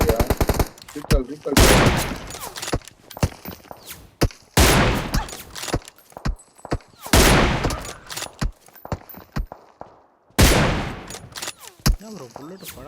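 Bursts of automatic gunfire from a shooting video game ring out in loud, close rapid volleys separated by short pauses, with players talking over the action.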